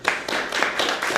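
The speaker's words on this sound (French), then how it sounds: "Et pour vos applaudissements aussi." A lecture audience clapping briefly, a few rhythmic bursts of hand claps close together in a short stretch with no speech.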